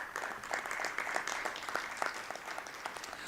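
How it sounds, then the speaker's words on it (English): Audience at a school district board meeting applauds young science students, a steady, moderately loud wash of many hands clapping with scattered sharper claps throughout, no voices over it. "Let's give the our young scientists another rousing applause"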